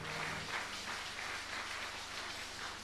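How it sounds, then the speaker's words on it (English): A church congregation applauds during a special Easter service, a steady wash of clapping that is dense and continuous and fairly faint, with no voices over it. "let's give them a very warm round of applause."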